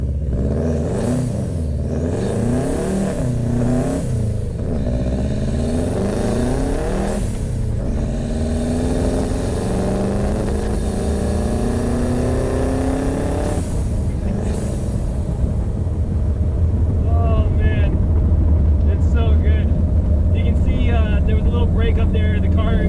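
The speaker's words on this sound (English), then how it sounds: "So I'll try to do a little launch for you right here." A Subaru Impreza 2.5RS with a WRX turbo engine swap launches in winter. The engine revs climb loud and close in repeated rising sweeps, then settle into a steady, rough rumble with a crackling edge.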